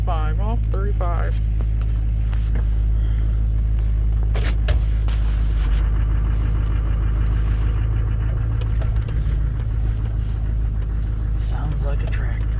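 2005 Chevrolet Duramax LBZ diesel idling after a cold start, a steady low rumbling clatter throughout, with people talking over it.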